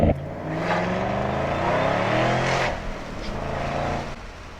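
A 2011 Ford Shelby GT500 accelerates hard at partial throttle and loses traction, its engine roaring loud and close with a rising pitch before easing off.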